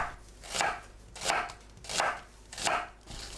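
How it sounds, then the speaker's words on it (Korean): An onion is sliced into thin strips on a cutting board, four even, rhythmic knife strokes about every 0.7 seconds, close and moderately quiet. "양파를 채 썰어주세요."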